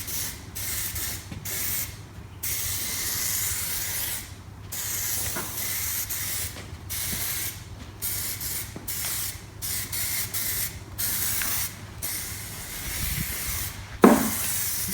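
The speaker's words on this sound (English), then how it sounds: "I can use the activator to get that to flash off" Glue activator is sprayed in repeated bursts to cure thick glue on a fabricated car audio stack for a Toyota 86. The spraying is a steady hiss with short pauses, and a sharp knock comes near the end.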